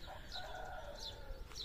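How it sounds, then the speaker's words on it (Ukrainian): Roosters crow somewhere off in the distance on a green countryside morning, faint calls rising over soft outdoor ambience and birdsong. "Там петушки, там ще хтось. Півники, півники."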